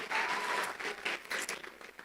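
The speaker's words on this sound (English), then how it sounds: "Please give him a round of applause again." A short round of applause from a gathered audience, brisk uneven clapping that fades in and out over about two seconds.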